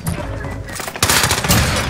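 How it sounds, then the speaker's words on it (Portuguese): Rapid automatic gunfire in the Warzone battle royale game, a Type 100 submachine gun, rattles in dense bursts, growing louder and harsher in the second half, with a player's voice faintly underneath. "Só tem mais tiro."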